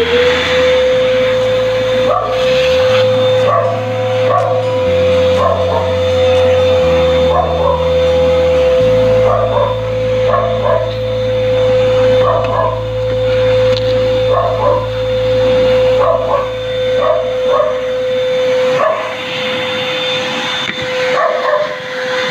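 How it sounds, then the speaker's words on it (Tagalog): A vacuum cleaner drones steadily and loudly up close while cleaning the EGR part of a 2009 Mitsubishi Montero Sport, with a small dog yipping and barking repeatedly over the motor hum. "kailangan ko i-vacuum yan"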